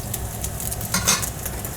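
Sauce cooking for orecchiette all'arrabbiata in a pan on a hob turned up to 1500 watts, giving a steady close sizzle and bubbling with brief scraping stir sounds, no talking.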